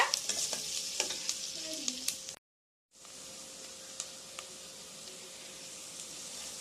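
Onions fry golden in a pan with a faint, steady sizzle and a few sharp stirring clicks early on, a brief silent gap, then continued quiet frying with no voices.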